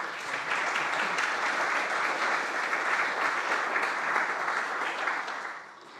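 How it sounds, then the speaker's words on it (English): Audience applause after a technical conference talk on machine learning pipelines, a continuous even wash of clapping from a moderate crowd, tapering off at the end. "If not, then another applause."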